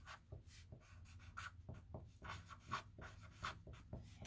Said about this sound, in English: start by writing your name at the very top